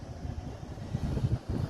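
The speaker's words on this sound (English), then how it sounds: "but it is windy" Low, rumbling wind buffets the microphone in uneven gusts on a street in downtown Branson, Missouri, with no voices, steady and fairly close throughout.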